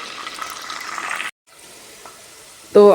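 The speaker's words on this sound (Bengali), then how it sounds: "চিকেনটা হচ্ছে আমি এখানে বেশ লাল লাল করে ভাজবো" Chicken pieces frying in hot oil until browned, giving a steady close sizzle that briefly cuts out, resumes more quietly, then flares into a loud burst of spitting at the end.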